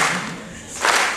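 An audience at a live show at Disney's Hollywood Studios clapping along to a song, a short burst of claps swelling at the end.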